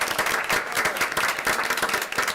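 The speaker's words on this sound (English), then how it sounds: "So let's give them a round of applause." Applause from an audience at a school board meeting, a short burst of steady, moderately loud clapping from a room of people.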